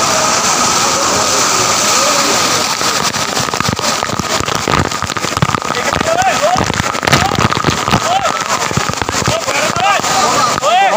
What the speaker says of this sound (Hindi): देखो अपना झरना आ रहा है